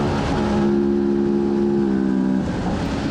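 Super Twin racing motorcycle at Cadwell Park accelerating along a straight during a five-lap sprint race, a loud, steady engine drone with a rising harmonic pitch held for about two seconds before easing off.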